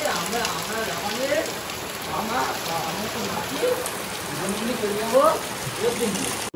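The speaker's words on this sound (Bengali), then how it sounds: "মুষলধারে বাইরে বৃষ্টি হচ্ছে, এদিকে জল পড়ছে।" Heavy rain pours steadily onto leaves outdoors, a dense hiss of drops with faint patters, close and continuous throughout.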